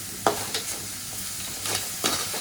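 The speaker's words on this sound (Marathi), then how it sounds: "किती वेळा करूया ह्या आता विरघळून घेऊ खाया जरा परतून." Jaggery with cardamom is stirred and sautéed in a pan, giving soft sizzling and a few scraping strokes of the spoon, close and moderately loud, with no voices.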